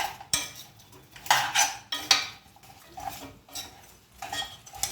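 A spoon stirs and scrapes mutton curry sautéing in a pan, giving intermittent metallic clinks and scraping bursts in an uneven rhythm, close and fairly loud with no voices.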